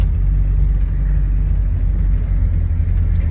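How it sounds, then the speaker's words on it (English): A 1973 Ford Maverick engine running rough, a loud, steady low rumble with a slightly uneven throb, close and continuous with no talking. "Yeah, the old motor's blubbering"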